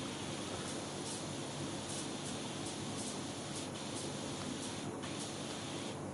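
Steady, even hiss of a pressure washer spraying in the cleaning game Power Wash Simulator, a continuous wash of noise at moderate level with faint flickers of texture and no voices.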